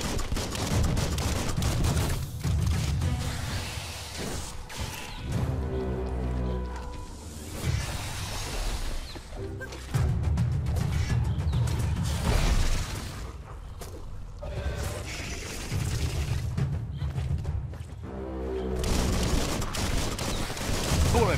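In the video game Biomutant, dense bursts of gunfire and booms come in repeated volleys, loud and close, with rapid shots overlapping and brief lulls between heavy flurries.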